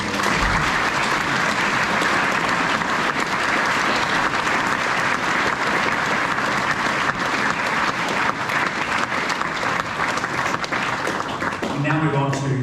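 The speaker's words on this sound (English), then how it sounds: "Let's give those Year 10 students a round of applause" Sustained applause from a school assembly audience honouring Year 10 students at a New Zealand high school, a dense steady wash of many hands clapping throughout, with a voice starting to speak near the end.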